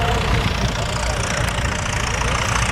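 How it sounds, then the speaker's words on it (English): A Caterpillar bulldozer works at a gas and steam engine show, its diesel engine a loud, continuous, rough rumble close by with no letup. "There's a cat dozer working down there"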